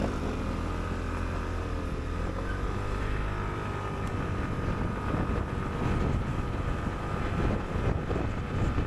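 An RKS Reale 125 motorcycle engine runs during a short ride, a loud continuous low drone with shifting pitch, mixed with wind rush on the microphone.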